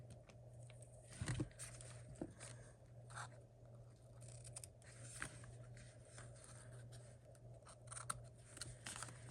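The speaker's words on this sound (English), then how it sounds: "I'm going to end up cutting these knots here." Scissors snipping ribbon knots on a handmade Christmas tree card: a few quiet, crisp snips and small scrapes over a low steady hum, faint and close, with no talk.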